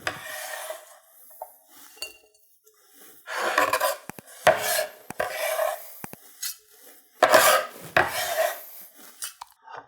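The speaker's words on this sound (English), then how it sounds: "I'm going to use my bench scraper." A bench scraper pushes chopped broccoli across a board into a large bowl: several rasping scrapes in bursts, with light clinks and thuds, fairly close and loud, and no talking.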